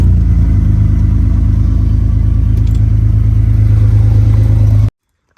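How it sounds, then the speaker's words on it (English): A Jeep WJ's engine running at a steady, loud, close idle with a rumble and faint clatter, then cutting off abruptly into silence. "we're going to go ahead and get the Jeep fired up"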